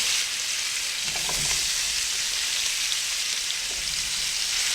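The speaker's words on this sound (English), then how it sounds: "I'm going to move my roast over and add all of my onions. I'm going to put 1 tablespoon of butter right here." Onions and a tablespoon of butter sizzle and fry in a hot pan beside a browning roast, a steady close crackling hiss with faint stirring clatter partway through.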